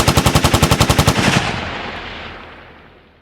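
AKM rifles fire a rapid burst of about a dozen loud, evenly spaced shots in the video game DayZ, then a long echoing decay trails off.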